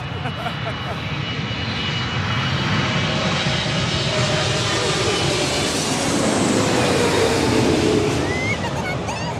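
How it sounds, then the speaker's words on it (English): A Boeing 777-300ER airliner arriving from London Heathrow, a loud, steady roar of jet engines that swells slightly near the end and runs throughout. "That was Speedbird 21 Bravo coming in from London Heathrow on a 777-300ER"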